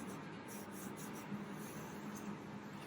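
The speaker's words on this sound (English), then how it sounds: "I'm just finishing up the finish sanding on the primer right now." Sandpaper rubs over primer on a guitar body in quick back-and-forth strokes, a soft, faint, steady rasping scrape with a light repeating rhythm.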